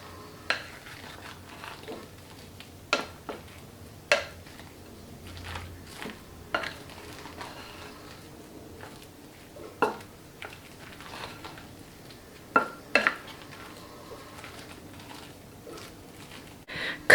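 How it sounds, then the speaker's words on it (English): Fruit salad being folded and stirred in a bowl, with scattered soft knocks and scrapes of a utensil against the bowl at irregular intervals over a quiet background, close and fairly faint, with no talking. "Give it a mix by folding it and just moving it around a bit."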